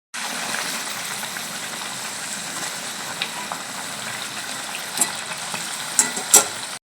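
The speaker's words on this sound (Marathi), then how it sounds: "किचनमधून आवाज यायला लागलेला आहे मंडळी काय तर तळण्याचा" Potato bhaji deep-frying in hot oil in a home kitchen gives a steady, dense sizzle throughout, with a few sharper pops and crackles near the end and no voices.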